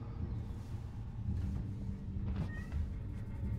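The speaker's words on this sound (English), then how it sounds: "And I hear my cat yelling again." A cat yowls and meows repeatedly in a video game, the calls fairly faint over a steady low rumbling ambience with no talk.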